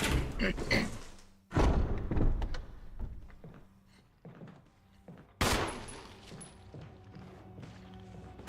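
Resident Evil gunshots ring out as loud, sharp single blasts spaced seconds apart, each decaying into quieter ambient game sound between them.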